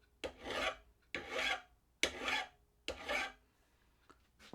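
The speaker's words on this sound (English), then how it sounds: "I'm running the file perpendicular to the edge and making it flat actually, much like sharpening a handsaw." A hand file rasps across a lawn mower blade, held perpendicular to the edge, in four distinct strokes roughly a second apart, close and clear, followed by a faint quieter scrape.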